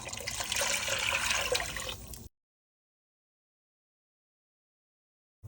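Water pours steadily into a cooking pot for a soup of potatoes and sausage, a loud continuous splashing rush for about two seconds that stops abruptly, followed by silence.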